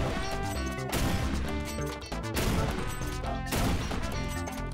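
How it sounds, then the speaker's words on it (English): A grenade goes off in the shooter game Phantom Forces, a loud burst of crashing impacts that comes in a few heavy waves of debris and gunfire-like cracks, with no talking. "That's tactical use of our grenade."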